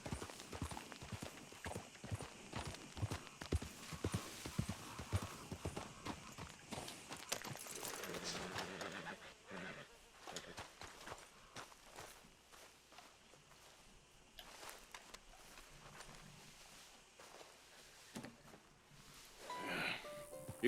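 Horse hooves clip-clop in a steady walking rhythm in Red Dead Redemption 2, fairly close, with scattered game sounds and brief voices layered over the hoofbeats.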